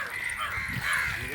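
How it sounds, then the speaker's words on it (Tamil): Crows caw together in a harsh, overlapping chorus, moderately close, with no talking. "எவ்வளோ காக்கா"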